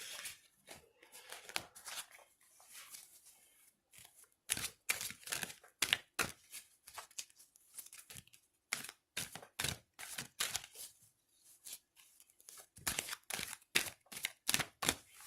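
A deck of oracle cards is shuffled by hand: long runs of quick, crisp riffling and flicking bursts, close and steady, with brief pauses between shuffles.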